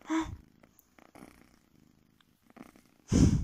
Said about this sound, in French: Je sais pas si vous l'entendrez ronronner.